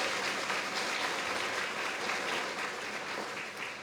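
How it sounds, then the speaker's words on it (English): Audience at an elementary school grand opening ceremony applauding, a steady and fairly faint spread of many hands clapping together, sustained evenly without speech over it. "big hand of applause"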